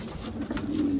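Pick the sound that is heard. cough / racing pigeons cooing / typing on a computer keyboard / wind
racing pigeons cooing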